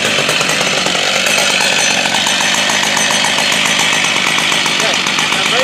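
An Alaskan chainsaw mill rips a slab from a walnut log, the chainsaw roaring loud, steady and unbroken at full throttle throughout.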